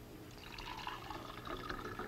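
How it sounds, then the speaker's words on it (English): Liquid being poured into a glass in a 1960s science demonstration, a soft continuous splashing and trickling close by, with faint dripping and no talking. "Here is another liquid which I'll pour in this glass."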